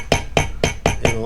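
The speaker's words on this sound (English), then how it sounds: "fit the piston. Some friendly tappy taps." A piston is tapped into the cylinder of a Kawasaki FR730V engine during a re-ring rebuild. Five sharp, close knocks fall in an even rhythm over just over a second, with no talk.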